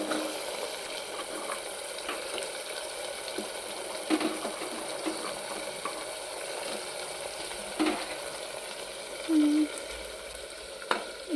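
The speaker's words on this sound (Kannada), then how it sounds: "ಈಗ ನಾವು ಕಟ್ ಮಾಡ್ಕೊಂಡಿರೋ ಕ್ಯಾರೆಟು, ಬೀನಿಸು ಅದನ್ನೆಲ್ಲ ಆಯಿಲಲ್ಲಿ ಹಾಕಿ ಫ್ರೈ ಮಾಡ್ಕೊಳ್ಳುವ" Chopped carrots and beans sizzle steadily in hot oil in a pan, a continuous close frying hiss with a few soft knocks and stirring bumps.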